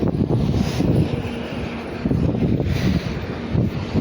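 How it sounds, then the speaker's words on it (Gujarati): Strong wind buffeting the microphone in heavy low rumbling gusts, steady and loud throughout with no talking. "આ પવન વધારે છે એટલે સંભળાય નહીં તમને"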